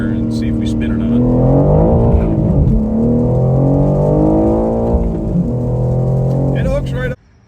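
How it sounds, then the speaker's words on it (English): A Shelby GT350 accelerating hard in first gear, a loud rising engine roar climbing in pitch with brief shifts in the note, heard from inside the car and cut off abruptly near the end. "we're gonna go ahead and give it an actual hit in first gear here and see if we spin or not"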